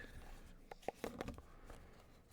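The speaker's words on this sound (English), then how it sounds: "Some nice box noises too while I'm putting it away." A deck of cards is put back into its cardboard box with soft, close scratchy rubs and a few light taps in a quiet ASMR setting.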